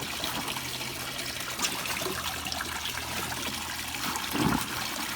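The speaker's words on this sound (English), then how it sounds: "See, the water is making its way up." Water flowing and trickling into a homemade planter bio filter, a continuous close gurgling flow with a low hum beneath and a brief louder splash near the end.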